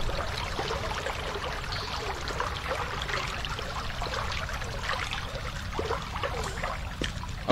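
Water flows steadily in the video game Investigator, giving a constant broadband rush and trickle at an even, moderate loudness with no pauses or talking.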